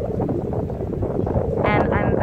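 Wind blows steadily past the microphone outdoors in Hangzhou, a continuous rumbling buffet with a person speaking over it.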